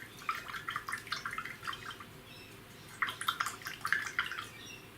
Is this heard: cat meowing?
no